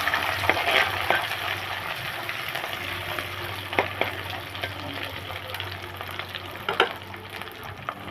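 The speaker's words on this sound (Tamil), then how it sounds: "இது வதக்கி வச்சுக்கலாம்." Steady frying sizzle of ginger and garlic sauteing in a pan, with occasional stirring scrapes and clinks, continuous and close, with no voices.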